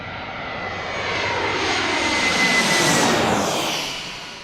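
A Delta passenger jet arriving to land at Reagan National (DCA), heard from Gravelly Point: a loud, close engine roar swelling as it passes overhead, then easing off, with no talking.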